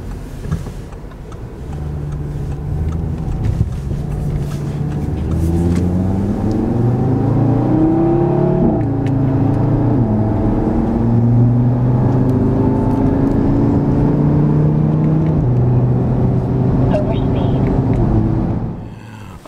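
A 2018 Audi TT RS drives off and accelerates, its engine rising through the gears in loud, steady revving with a rumbling low end that continues for most of the run before easing off near the end.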